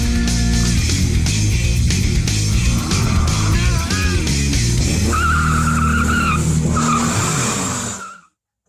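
A Losi Mini-T 2.0 brushless RC car drives hard around a track, its high motor whine running steadily with tire squeals and skids scattered throughout, loud and close before cutting off near the end.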